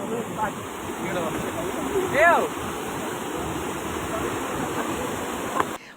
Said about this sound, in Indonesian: Sungai Mangoy yang terletak di daerah Rimbo Sitapuang, Desa Rambai, meluap dan menghantam sawah hingga memutuskan jalan.